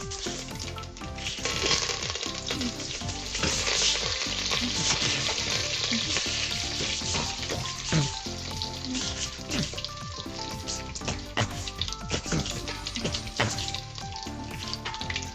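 Fennel, cumin and curry leaves sizzle and crackle in hot oil, a loud, continuous frying hiss with irregular pops and light stirring scrapes throughout, no voices.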